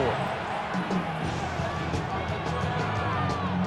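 A stadium crowd in the Madden 26 football video game, Colts at Patriots, keeps up a steady roar of cheering under commentary.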